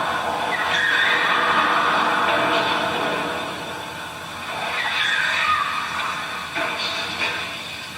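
Stunt cars race at about 30 miles per hour toward a planned collision, making a loud, close rush of engine and tire skid that swells and fades in waves. No voices are heard.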